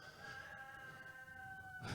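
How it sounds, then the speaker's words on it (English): A rooster lets out a single drawn-out crow, heard quietly and at some distance against a low background. "There's the rooster."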